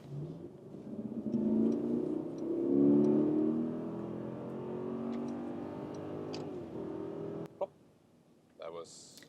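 A 2025 facelifted Mercedes GLS with a mild-hybrid V8 in sport mode accelerates hard from 50 to 130 km/h, its engine note rising and swelling through gear changes inside the cabin before it settles, followed by faint clicks.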